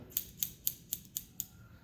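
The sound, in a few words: scissors cutting hair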